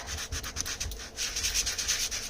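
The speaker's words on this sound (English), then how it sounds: "I am going to go across it really quickly to try to scuff it up" Shiny packaging surface being scuffed by quick back-and-forth rubbing, a close, rapid, raspy sanding-like scratching in short repeated strokes.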